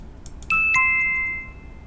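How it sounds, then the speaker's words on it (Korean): A doorbell chimes twice, two clear descending tones that ring out and slowly fade against a quiet background. "초인종이 울리고 있습니다."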